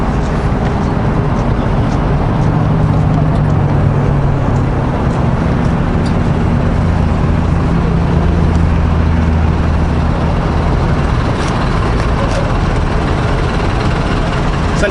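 Turbocharged race car on slicks with wastegate dump pipes idles and rumbles loudly and continuously at a parking area, a dense, steady engine drone with faint hiss from nearby traffic.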